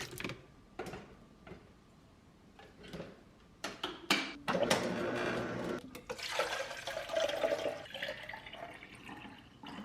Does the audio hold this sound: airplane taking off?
no